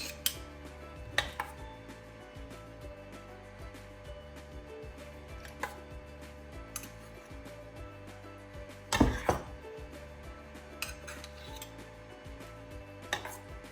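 A metal spoon spreads vanilla pudding curd filling in a baking pan for a pie, giving faint scraping with sparse clinks and taps against the pan, including one louder knock.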